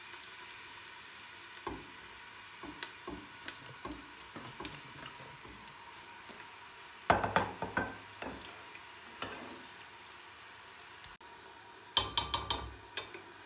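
Onion sizzles in hot oil in a cocotte for a lamb tagine, a faint frying hiss broken by clusters of scraping and clattering stirring sounds, louder bursts toward the middle and end.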